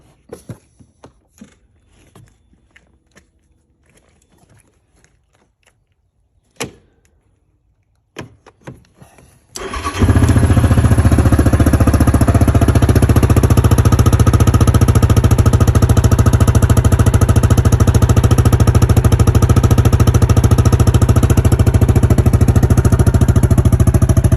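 A Yamaha Grizzly 700 SE ATV with an aftermarket tuner sits quiet amid faint clicks, then its engine fires up abruptly and settles into a loud, steady, deep idle that holds for the rest of the stretch.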